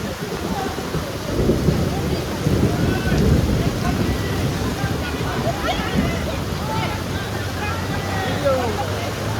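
Heavy rain pouring down on Pasodara village during a flooding downpour, a dense, loud, continuous roar with rumbles of thunder and wind buffeting the microphone, and voices faintly present in the background.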